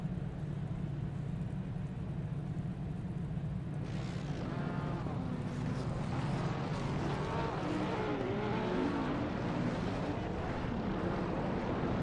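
GT3 race cars in the sim racing game Assetto Corsa Competizione at Brands Hatch drone along on a warm-up lap, a continuous engine rumble with several rising, overlapping whines from the field.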